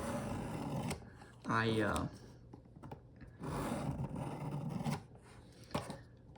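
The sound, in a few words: knife sharpening on Work Sharp guided sharpener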